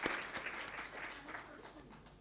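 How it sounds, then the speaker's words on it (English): A short burst of audience applause for panelists at a summit, fairly faint and fading out over about two seconds. "a huge round of applause for each and every panelist."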